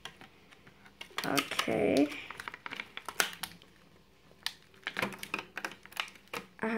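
Plastic packaging being cut with scissors to free a Disney Elsa figure, giving a string of close, crisp snips and crinkles with brief pauses, while a voice speaks briefly.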